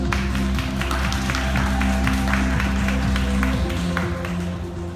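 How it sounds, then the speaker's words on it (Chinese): An audience at a Sony Xperia phone launch press event applauds to welcome a speaker, with steady overlapping claps over a low background hum and music. "掌声欢迎"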